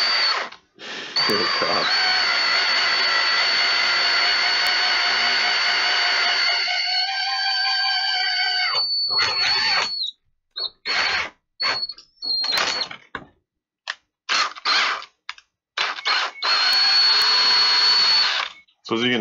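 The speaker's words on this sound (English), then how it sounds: "you just got to take your time when you're drilling through this" A power drill bores through a plastic custom reservoir. It whines loudly and steadily for about ten seconds, then cuts in and out in short bursts as the bit bites near the end, with a brief spoken exclamation.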